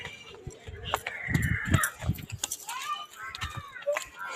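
Crows cawing outdoors, a few harsh calls scattered among other bird sounds and irregular knocking, with people talking throughout.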